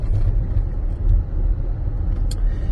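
A vehicle drives past ploughed and harrowed fields of winter crops in spring, giving off a steady, close, low engine rumble with no talk over it.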